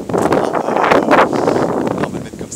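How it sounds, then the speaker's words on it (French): Strong wind buffets an action camera microphone with a loud, continuous roaring rumble and gusty surges throughout. "Il y a un vent de dingue, donc du coup le filtre anti-vent devrait faire le taf."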